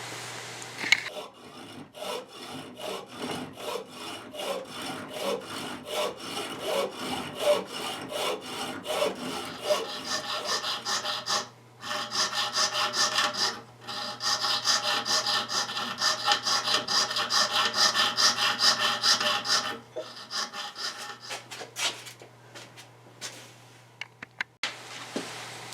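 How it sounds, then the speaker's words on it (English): A hacksaw with its blade turned backwards cuts copper pipe in steady back-and-forth strokes, giving a close, continuous rasping that pauses briefly twice and then dies away. "So I'm going to turn my hacksaw blade around backwards and cut it that way."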